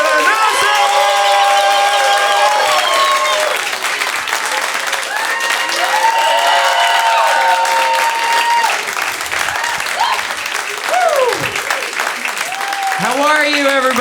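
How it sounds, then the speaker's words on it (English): A Sunday-night comedy special audience in New York City claps and cheers loudly, with whoops and shouts rising and falling over continuous applause. "start clapping right now. Make some noise"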